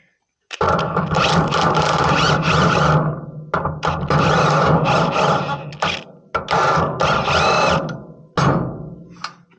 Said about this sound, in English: I'm just pushing back that dampener with the bolt there